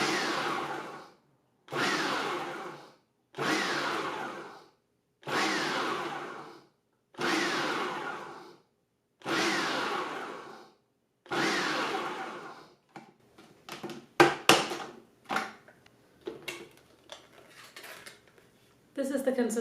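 A Hamilton Beach Stack and Snap food processor pulses tomatoes and onions for chunky salsa: seven short, loud, even motor bursts with brief gaps, followed by clattering handling sounds.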